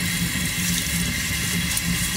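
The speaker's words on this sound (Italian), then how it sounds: "Prendo 180 grammi di riso basmati e lo sciacquo." Basmati rice being rinsed under a running kitchen tap, a steady close splashing rush of water with no talking.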